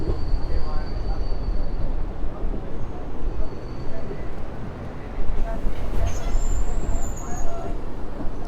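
Local train between Gurugram and Delhi rumbling along as it slowly gathers pace, continuous close rolling noise with a brief high wheel squeal near the end and a voice speaking over it.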